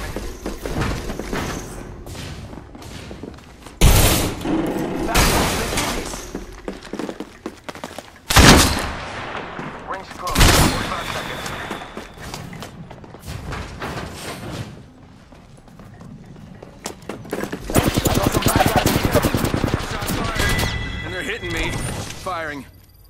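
Video game gunfire sounds in sharp, loud bursts and rapid volleys, with thuds and clattering effects mixed in and voices talking throughout.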